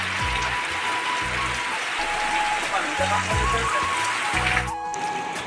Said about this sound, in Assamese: আৰু হঠাতে ইমান ডাঙৰ বৰষুণ দিলে দেখা পাইছেনে